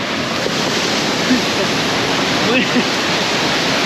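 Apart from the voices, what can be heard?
waterfall rushing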